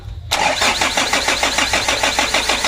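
A Mitsubishi 4D34 diesel engine cranks with a loud, rhythmic starter chug, close and steady, continuing for over two seconds without catching cleanly.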